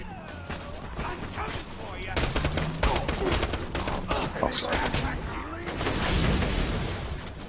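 Rapid SMG gunfire from the Borderlands 2 video game rattles in dense bursts with explosions and effects throughout, loud and continuous, with a player's voice talking over parts of it.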